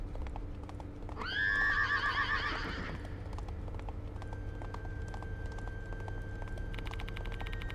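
In the video game Death Mark 2, a horse gives one loud, shrill whinny lasting about two seconds, with faint clip-clop hoofbeats of a gallop continuing steadily underneath and afterward.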